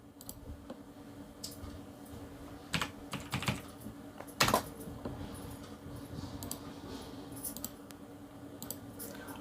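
A date of birth typed on a computer keyboard into an online home guard application form: a run of quiet keystrokes with a few sharper clicks, close and fairly faint throughout.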